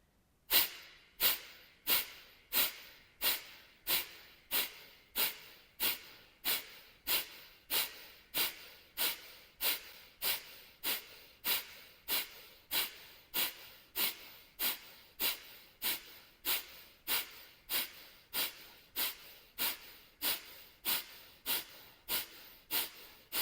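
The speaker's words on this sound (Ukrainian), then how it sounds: "відпускаємо і просто розтягуємо дихання" Breathing during a morning yoga session is loud and close. A steady train of sharp, forceful exhalations repeats roughly every three-quarters of a second for over twenty seconds, with no speech.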